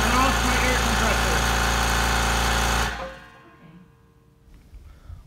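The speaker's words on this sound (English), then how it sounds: "The compressor itself can overshadow my voice." An air compressor runs loud and steady with a low motor hum and rattle, then shuts off at once, leaving a faint fading rundown and quiet room sound.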